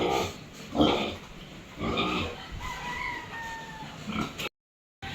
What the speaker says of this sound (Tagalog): Pinapaliguan po naman niya yung baboy niya.